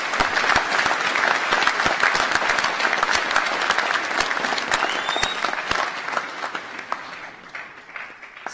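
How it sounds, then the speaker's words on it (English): Loud, sustained applause from the audience at a winter graduation ceremony for a School of Science, Engineering and Environment, with crisp individual claps over a dense wash that thins and fades toward the end. "Let's give them both a round of applause."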